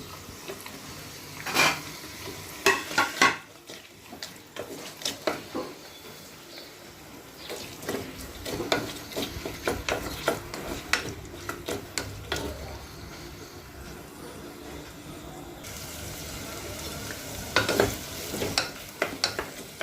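Chopped onions frying in a clay kadai for mutton keema, with scraping and stirring clatter in bursts over a steady soft sizzle, no talking.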